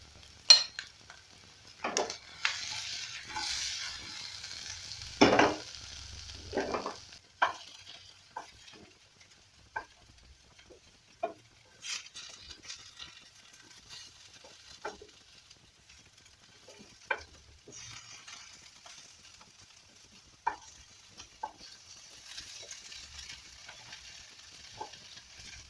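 Potatoes pan-roasting alongside sausages in a pan, stirred and flipped over and over until crusted; a soft sizzle sits under intermittent scraping and clatter of the utensil against the pan, louder in the first several seconds and then quieter.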